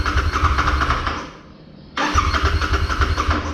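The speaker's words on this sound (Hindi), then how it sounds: "गाड़ी स्टार्ट करते हैं" A Royal Enfield Continental GT 650 motorcycle, low on petrol, cranks with a steady churning starter, pauses briefly, then cranks again without catching, loud and close.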